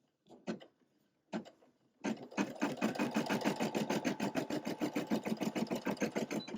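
A Brother PE550d embroidery machine stitches a split embroidery design, opening with a couple of short mechanical clunks, then a fast, even rhythmic needle chatter running steadily up close, with no talking.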